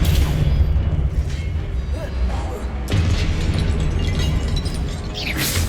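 Confringo fire spell blasts in the Hogwarts Legacy video game, a heavy booming burst over continuous rumbling combat noise, with another sharp impact near the end and a voice speaking underneath.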